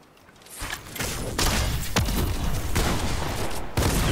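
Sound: gunfire in a video game

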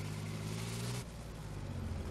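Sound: car approaching in the video game Squad

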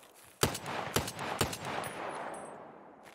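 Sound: gunfire in the video game Escape from Tarkov

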